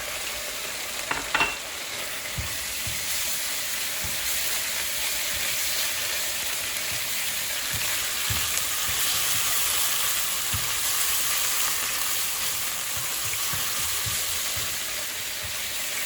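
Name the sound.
meat frying in a pan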